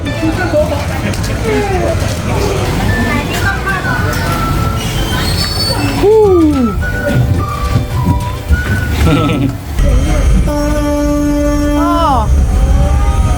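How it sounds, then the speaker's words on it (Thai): A tourist train at a dinosaur park in Pattaya rolls in with high, drawn-out wheel squeals and sustained tonal screeches, loud and close, over a steady rumble with voices and chatter in the background. "รถไฟมารับเราแล้วครับ"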